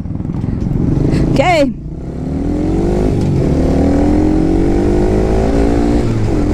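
A Kawasaki KSR 110 mini motorcycle revs hard and accelerates on a road during a speed test, the engine note dipping at a gear change and then climbing again, loud and close, while the rider talks briefly.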